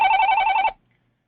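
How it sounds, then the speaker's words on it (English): A mobile phone ringing nearby, a loud trilling electronic ring with rapid warbling pulses that cuts off abruptly, followed by silence. "Excuse, my phone is ringing here."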